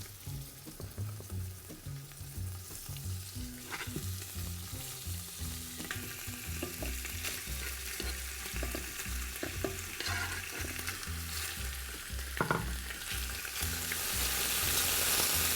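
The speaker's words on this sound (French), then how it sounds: "Quand on fait un sauté, ce qui est important, c'est de bien colorer sa viande." Pork pieces for a mustard pork sauté sizzle and brown steadily in a pan, a continuous frying hiss with occasional stirring scrapes, close and moderately loud throughout.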